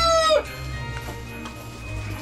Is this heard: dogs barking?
no